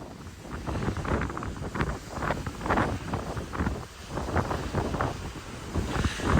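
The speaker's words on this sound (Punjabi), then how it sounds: "ਬਹੁਤ ਤੇਜ਼ ਹਵਾ ਯਾਰ" Strong gusty wind buffets the microphone in continuous loud rumbling bursts on a ferry deck, with spray and the wash of water beneath the moving boat, in Scotland.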